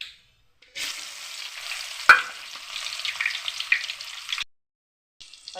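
Sliced onions drop into hot oil for a mutton kulambu and sizzle loudly and steadily for about four seconds, with a sharp clink partway through, then cut off, leaving a faint hiss at the end.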